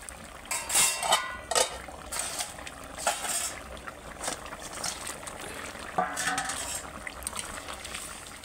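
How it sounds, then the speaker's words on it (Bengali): Pieces of bhola fish dropped into a pan of potato and eggplant curry, several scattered soft clinks and splashy hits over a faint simmering background. "এবার মাছটা দিয়ে দেবো।"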